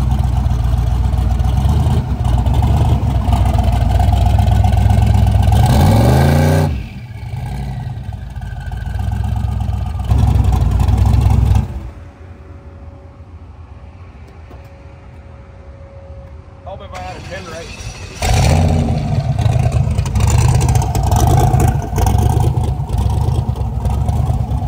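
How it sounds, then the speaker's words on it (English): Race car engine started and revved for a 2000 RPM two-step check, a loud close roar that swells in rising revs, drops to a lower idle rumble for several seconds, then returns to a heavy sustained blare. "We're gonna start fire up. We're gonna do a 2000 RPM two-step check, make sure everything functions and works correct on the brake"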